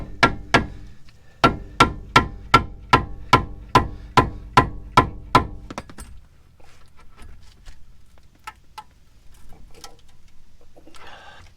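A pickle fork is hammered to separate a stubborn ball joint on a Honda Ridgeline, about a dozen sharp metallic strikes in steady rhythm, close and loud, followed by quieter clinks and shuffling.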